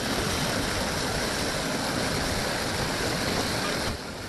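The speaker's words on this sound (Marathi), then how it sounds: "सोमेश्वर धबधब्याला पाणी खूप होते" Water roars in a constant, dense rush, loud and unbroken, like a heavy cascade close by at Someshwar waterfall in Nashik, running high with water, easing slightly at the very end.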